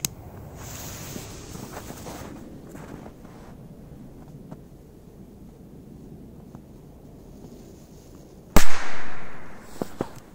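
Achtung firecracker bursting during a comparison test of firecrackers from different brands: one sharp, loud bang near the end, preceded by wind noise and a faint background rumble.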